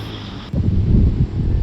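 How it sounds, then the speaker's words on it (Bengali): Wind gusts buffet the microphone on a tenth-floor rooftop in Dhaka at night, a loud, low rumble that kicks in after a brief quieter moment and continues steadily. "এখানে খুবই বাতাস আসছে আসলে"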